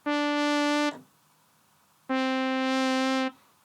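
A dry synthesizer lead plays two sustained buzzy notes separated by silence, clean and fairly quiet, with no reverb or delay tails.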